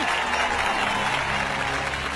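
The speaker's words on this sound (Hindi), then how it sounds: "ताली बजाओ, ताली।" A crowd clapping steadily in a scene from the Hindi-dubbed Ravi Teja film Tiger, with a dense, fairly even wash of applause at moderate distance.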